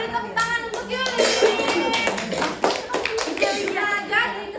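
Classroom clapping for a student during a lesson, a steady mix of small hands patting together close by, with children's voices chattering over the clapping throughout.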